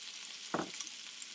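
Potatoes for a fried potato pizza hiss in a pan with a faint, steady sizzle, broken by one brief soft clunk partway through.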